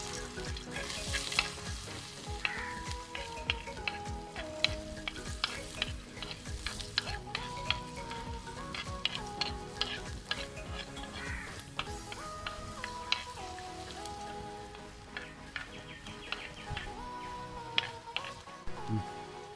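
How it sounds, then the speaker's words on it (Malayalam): Garlic and ginger pieces sizzle in hot oil for a Kerala-style dry shrimp roast, with steady frying crackle broken by frequent stirring clicks and scrapes across the pan, heard close and moderately quiet. "നമുക്കിതിലേക്ക് കുറച്ച് വെളുത്തുള്ളി അതുപോലെ ഇഞ്ചി ചെറിയ പീസാക്കി വെച്ചിട്ട് അത് നമുക്കിതിലേക്ക് ഇട്ടുകൊണ്ട് വാട്ടി കൊടുക്കും."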